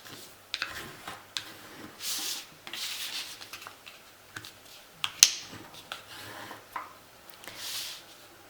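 Paper rustles and crackles as it is folded and pressed for an origami mini album, with sharp crease snaps and rubbing swishes at irregular intervals, close and fairly quiet.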